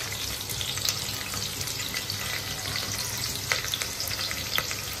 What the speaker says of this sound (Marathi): तर याला मस्त मिक्स करून कांदा टोमॅटो जे टाकलेलं आहे ते मस्त पोळून घेऊ आपण.